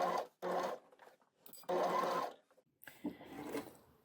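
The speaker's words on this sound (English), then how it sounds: "I can sew these straight through the machine without basting" Sewing machine stitching honeycomb blouse fabric, running in short bursts of steady mechanical whirring separated by brief pauses, close and fairly quiet.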